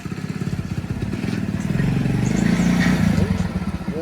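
A motorcycle arriving at a house, its engine putting along in a rhythmic chug that grows louder and closer as it pulls up, with no voices over it.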